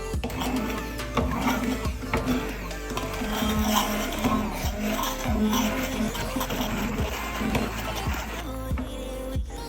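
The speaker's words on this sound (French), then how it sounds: "je vais utiliser mon mixeur plongeant pour les transformer en purée" An immersion blender purees cooked, candied blueberries for an entremet dessert, a continuous loud motor whir with repeated rhythmic thumps and shifts in pitch as the blade works through the fruit.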